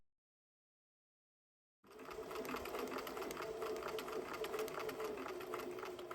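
A sewing machine stitches fabric in a steady, continuous mechanical whir that starts abruptly after a short silence and runs evenly at close range.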